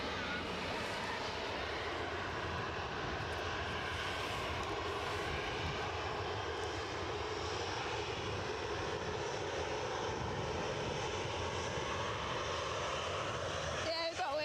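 An EasyJet airliner takes off at Edinburgh Airport, giving a loud, sustained engine roar that fills the whole stretch without a break.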